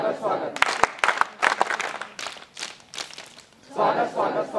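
An audience at a scout and guide event held at a college claps in welcome. The applause is a dense, steady patter with some sharp individual claps, and it swells again toward the end.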